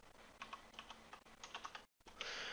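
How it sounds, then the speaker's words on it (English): Quick light keystrokes on a computer keyboard come in short clustered bursts, quiet and close, with a brief silent gap near the end and no speech. "I'm going to type here Photopia."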